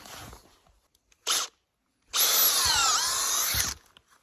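A power drill bores tap holes into sugar maple trees in a snowy New England sugar bush to draw sap, giving a short burst and then a longer loud whining run of about a second and a half.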